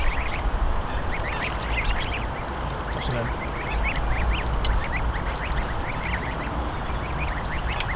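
Ducks and swans at a lakeside fishery call and quack repeatedly while being fed, a busy chorus of close and distant bird cries over steady outdoor background noise, with someone speaking briefly to them.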